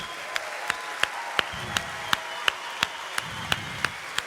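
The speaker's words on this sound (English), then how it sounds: "So a big applause for all of them." Audience applause at the opening ceremony of a live event, a dense steady wash of many hands clapping throughout, with sharp regular percussive beats cutting through at a steady rhythm.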